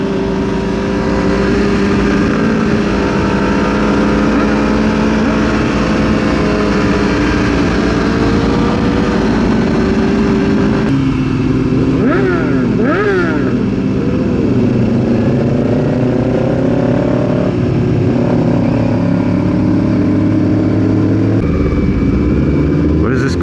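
Several motorcycles ride together in a seven-bike group, a Kawasaki Ninja running close alongside, their engines droning loudly and steadily with rising and falling revs and wind noise throughout.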